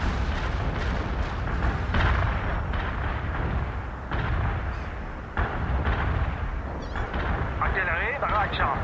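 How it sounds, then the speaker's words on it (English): An artillery barrage in the video game World in Conflict rumbles as a dense run of low, heavy booms and blasts, with radio-style voices talking over the bombardment. "Artillery, barrage out."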